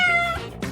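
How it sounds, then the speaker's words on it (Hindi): Cat meowing, a single clear harmonic meow followed by a shorter second call, close and loud with no talking. "कितनी प्यारी बिल्ली है।"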